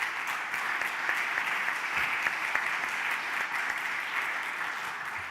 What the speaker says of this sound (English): Please give an applause to our panelists.